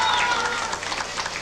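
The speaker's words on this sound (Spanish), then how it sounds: "el aplauso para Cota" A brief burst of audience applause for a municipal band from Cota, heard on a broadcast music program, dense and fairly loud with a voice briefly audible over it.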